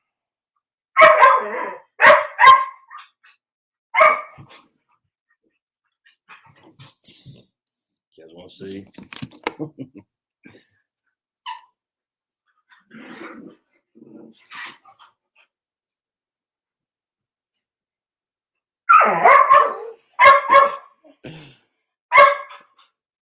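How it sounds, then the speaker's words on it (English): Dogs wrestling bark in short bursts, some loud and close, with scuffling and whimpers between them, and a person speaks briefly in the middle. "we got some dogs out there wrestling"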